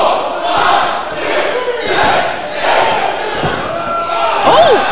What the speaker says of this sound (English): every single time they come out, this crowd just comes unglued